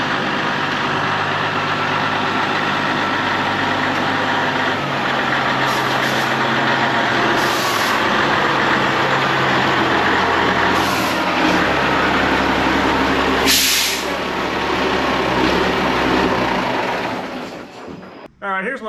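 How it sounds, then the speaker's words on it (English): An old Ford Cabover truck with a 13-speed transmission rumbles loudly at a steady idle, a deep continuous engine drone with brief bursts of air hiss, cutting off abruptly near the end. "here's my old reliable Ford Cabover"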